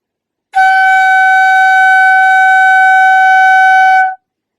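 A single bright, breathy whistle-like note on a Nuvo Toot flute held steadily for about three and a half seconds, loud and alone, then cut off cleanly.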